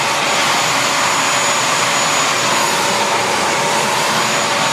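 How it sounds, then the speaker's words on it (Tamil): A handheld electric air blower, sold as a cheap home vacuum cleaner, runs at full power with a loud, steady, high-pitched roaring whoosh that holds unbroken from start to end, close to the microphone and alone. "ப்ளோயர் இது ஆன் பண்ணக்குள்ள உங்களுக்கு ஒர்க் ஆகுறது எப்படின்னு பார்த்துடலாம்"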